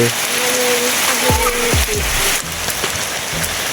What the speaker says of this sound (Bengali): আবার বৃষ্টি শুরু হয়ে গেছে